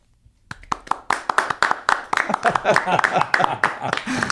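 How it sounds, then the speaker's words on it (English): A comedy audience gives weak, sparse clapping that starts as a few separate claps and builds into a thin patter of scattered hands, with voices and laughter mixed in. "Barely clap for that. Tim literally could hardly get his hands together"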